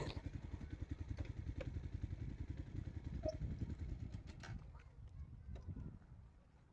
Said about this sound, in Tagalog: Ngayon pa lang ako nagkakasa ng makina